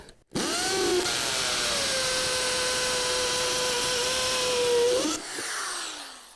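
An impact driver sinks a pan head screw into wood with a sustained, loud whirring drone that rises in pitch near the end, then cuts off abruptly, leaving a brief fading rumble.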